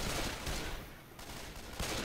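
Dense, steady gunfire rattles through Left 4 Dead 2 in a short continuous volley, loud and close.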